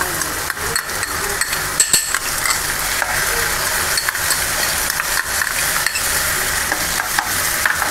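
Barnyard millet (bhagar) roasting in ghee in a kadhai gives a steady close sizzle, with frequent clicks and scrapes of a spoon stirring against the metal.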